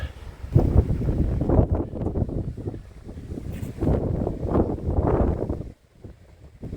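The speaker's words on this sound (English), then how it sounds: "It's a high wind area." Strong wind blows at a cliff-top petroglyph site, buffeting the microphone in loud, uneven gusts that rise and fall throughout, with a brief lull near the end.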